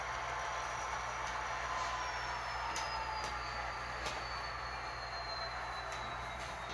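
An HO scale model train runs on its track with a faint, steady rolling hum, punctuated by occasional light clicks and a thin high squeal from the wheels.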